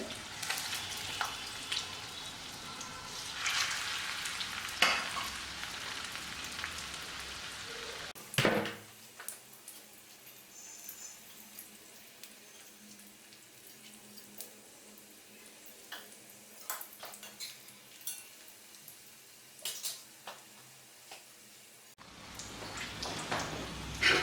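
Vegetable spring rolls frying in hot oil give a steady crackling sizzle throughout, with a brief clatter near the middle and bursts of louder bubbling at the start and end.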